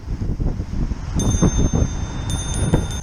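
A small bicycle bell on a Teverun Fighter 11 electric scooter rings with a few light, high dings over a steady rumble of traffic or wind.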